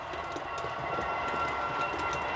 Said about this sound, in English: that train is now going to come across this junction